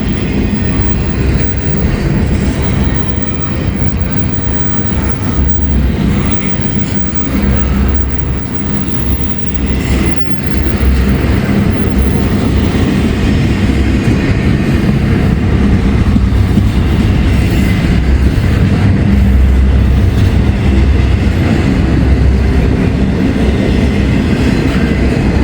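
A train passes behind a single locomotive, its wagons rolling with a steady, loud rumble and faint clickety-clack throughout, the sound filling the whole stretch without pause and with no talk over it.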